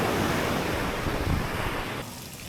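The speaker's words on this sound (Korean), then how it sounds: "바다 파도부터가 예술이다." Sea waves break on a resort beach shore, producing a loud, continuous wash of surf close by with wind buffeting the microphone, easing slightly toward the end, with no voices.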